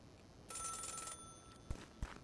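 Telephone ringing in the video game Celeste, a mountain setting: a single bright electronic ring burst of about half a second, followed by a few soft thumps like footsteps, fairly quiet overall.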